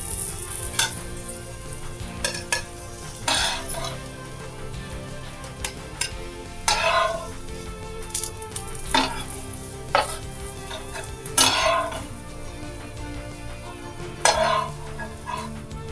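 Egg-dipped bread fries in a pan with a constant sizzle, broken by repeated sharp clinks and scrapes of a spatula against the pan at irregular intervals, fairly close and with no talking.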